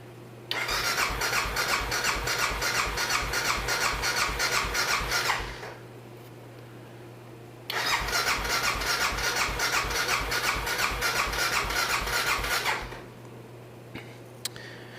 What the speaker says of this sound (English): I'm ready to try to start it.